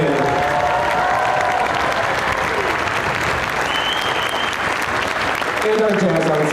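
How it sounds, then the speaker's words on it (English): Sustained applause from a school concert audience for an eighth grade band at an all-city band night, dense and steady throughout with faint crowd murmur and brief tonal bits near the end. "Let's keep your applause going for the 8th grade band."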